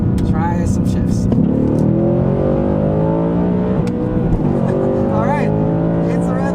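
A 2024 Ford Mustang GT with Performance Pack roars loudly from inside the cabin as it pulls through gears with paddle shifts, engine pitch climbing and dropping at each change, steady and close throughout.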